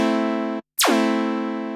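Nord Rack 2 virtual analog synthesizer tone, a steady bright held note that cuts off and then returns as a sharp sweep from high to low pitch before settling into a sustained tone, loud and alone.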